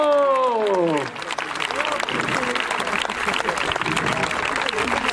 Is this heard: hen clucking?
no